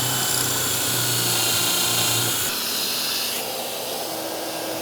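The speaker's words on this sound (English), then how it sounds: "Vacuum on and drill." Power drill and shop vacuum running together in a woodworking shop while building shaker-style cabinet doors, a loud steady whine and hiss that drops in pitch partway through and keeps droning.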